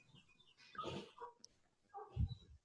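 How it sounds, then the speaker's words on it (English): A hound dog gives two short, muffled barks or yelps a second or so apart, faint and somewhat distant against quiet background noise. "All I hear is a hound dog."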